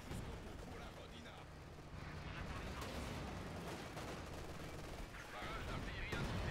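An incendiary artillery barrage in the Company of Heroes 2 video game rolls on as a dense, unbroken rumble of blasts and crackling gunfire, loud and steady throughout.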